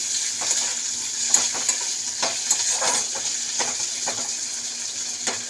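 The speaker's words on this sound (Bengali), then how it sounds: "তো পেঁয়াজটা একটু ভাজা ভাজা হয়ে যায়।" Onions fry in a pan with nigella seeds, giving a steady close sizzle broken by frequent light scrapes and taps of stirring.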